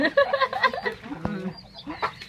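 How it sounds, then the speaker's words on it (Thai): Chickens clucking nearby in a hot outdoor setting in Laos, a few short choppy clucks and squawks in quick succession with a brief sharp call partway through. "ไก่จะมากิน"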